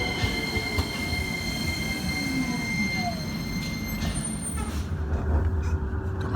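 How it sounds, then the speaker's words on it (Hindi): A tram running on its rails, with metallic wheel squeal ringing steadily over a continuous rolling rumble that swells toward the end. "ये ट्राम आ गई देखो मेरी, और उधर से भी एक ट्राम आ रही है"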